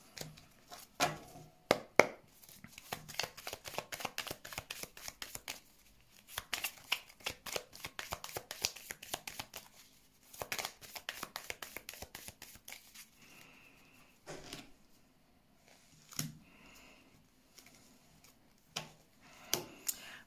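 Tarot cards being shuffled for a card draw, a quiet run of papery riffling and soft flicks in bursts, with a few sharper taps between, close and faint.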